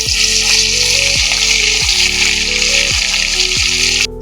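Pieces of rohu fish fry in hot oil, producing a constant close hiss and crackle that runs the whole time beneath a recurring swooping tonal sound.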